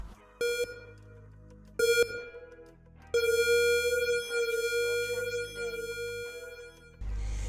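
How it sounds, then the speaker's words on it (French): Electronic beeps sound in two short pulses, then a long sustained tone that wavers slightly before cutting off, like a flatlining monitor. "j'ai entendu un bruit, une sorte de bip étrange, Vous voyez un peu comme les machines à l'hôpital"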